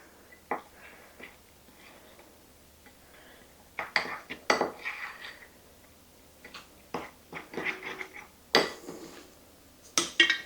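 A spoon mixes muffin batter with milk in a bowl, giving scattered clinks and scraping knocks against the bowl that come in quick close bursts, fairly quiet with pauses between.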